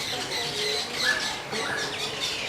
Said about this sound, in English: I think it's birds. By the sound of that's coming from in here.